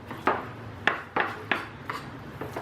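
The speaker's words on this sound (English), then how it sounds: "Chopping this up real good like that." Food being chopped for burgers on a cutting board: about six sharp, evenly spaced knife knocks over a low kitchen hum, fairly close, with no talk.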